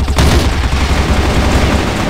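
Rapid gunfire in an online shooter game, a loud, dense burst of shots and booms running continuously for about two seconds with no talk over it.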